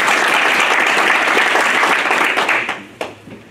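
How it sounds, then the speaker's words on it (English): Loud, close applause for a state representative at a town hall, dense clapping that holds steady and then tapers off into a few scattered claps. "Let's give Representative King a round of applause."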